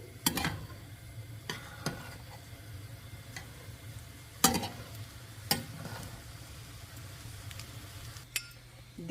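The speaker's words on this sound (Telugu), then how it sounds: "ఇప్పుడు హై ఫ్లేమ్ పైన ఇది అన్నం మొత్తం కలిసేలాగా చక్కగా కలిపేసుకోవాలి" Egg fried rice is stir-fried over a high flame in a street-style pan: a low steady sizzle runs underneath while a utensil scrapes and taps the pan in scattered, sharp strokes.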